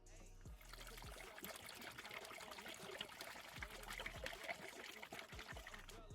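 Syntix ceramic oil additive being poured into a container, a steady liquid trickle and pour running continuously at close range with faint background noise.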